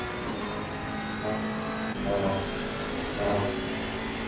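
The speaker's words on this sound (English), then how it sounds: "I do think though the Jaguar is the best sounding car in this game." A Jaguar race car engine in a racing video game, droning steadily with a couple of rising revs and gear shifts, mechanical and continuous, during an endurance race at Laguna Seca.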